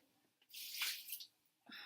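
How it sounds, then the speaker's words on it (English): Water poured out of a glass jar while rinsing it during home yogurt making, heard as a short splashing gush at close range, followed by a brief second trickle. "I'm going to take my jar, pour out this water."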